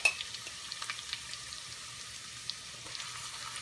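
Garlic, curry leaves and onions fry in hot oil for a Trini chicken curry, giving a faint, steady crackle with scattered small pops close by.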